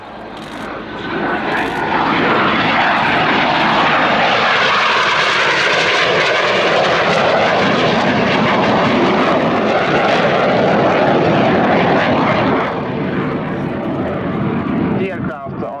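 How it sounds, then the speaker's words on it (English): A low-flying airshow aircraft with full flaps and landing gear down drones loudly and steadily overhead at Yeovilton Air Day, its engine roar swelling and holding for the whole pass while an announcer speaks over it. "The aircraft on a full flaps and load gear."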